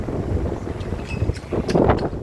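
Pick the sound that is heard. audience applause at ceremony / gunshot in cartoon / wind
wind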